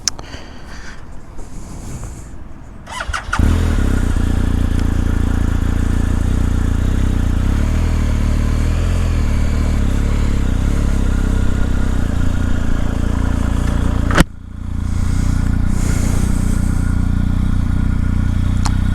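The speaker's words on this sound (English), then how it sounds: "I could definitely feel difference when starting the bike. Then I felt the movement from the boxer engine" A BMW R 1250 GS boxer-engine motorcycle starts with a clattering crank, then settles into a loud, close, steady rumble as it rides off, with a brief sharp dropout and bump partway through.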